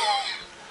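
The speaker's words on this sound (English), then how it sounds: "all I do is cough" One short, breathy cough, close and fairly loud, trailing off quickly into quiet.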